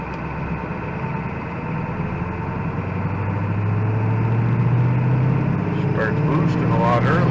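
A 7.3L Ford Powerstroke diesel in an OBS crew cab pickup fitted with a KC300X turbo drones steadily and loudly from inside the cab, rising slightly as it pulls, while someone talks over it.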